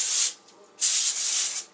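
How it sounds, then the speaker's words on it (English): Two hissing bursts of aerosol cooking spray onto a foil-lined pan, close by, the first short and the second longer, with a brief pause between them. "A light spray."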